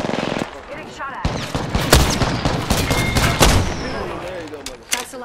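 Video game gunfire in a squad shooter match: loud, rapid automatic bursts and sharp shots crackle almost continuously, with a voice briefly heard amid the shooting.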